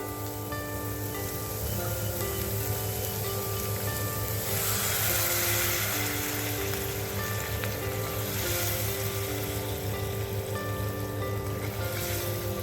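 Water, three cups of it, heats in a pan of sautéed tomato and vegetables for sprouts upma, making a continuous rushing, bubbling hiss that stays steady and close throughout.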